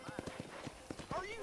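Horse hooves clip-clop on a ranch in the Red Dead Redemption video game, a run of fairly close, steady hoofbeats under ongoing talk.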